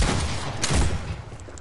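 Loud, close gunfire in a shooter video game comes as a rapid run of blasts that blur into one another, then fades slightly near the end.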